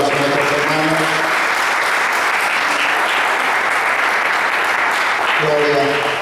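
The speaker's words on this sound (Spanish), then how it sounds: "Fuerte el aplauso a nuestros hermanos." A church congregation at a Wednesday evening service applauds loudly and steadily, dense continuous clapping filling the room, with a voice speaking over it at the start and end.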